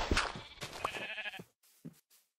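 Sheep in the Minecraft video game (survival mode, version 1.16.5) give several short, close bleats in quick succession, followed by a fainter trailing bleat and near silence.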